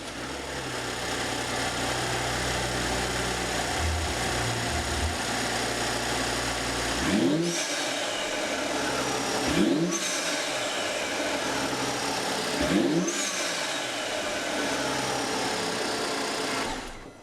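BMW 535i F10 with a Burger Tuning intake idling with a smooth hum, then blipped three times, each rev rising sharply and falling back, heard fairly close and alone.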